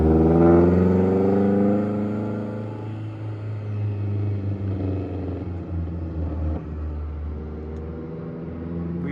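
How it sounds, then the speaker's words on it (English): A Mazdaspeed 3 with its resonator and muffler deleted rumbles loudly, revving and then settling into a deep, throaty idle with slight fluctuations, close by with no talking. "We got a resonator and muffler delete, guys."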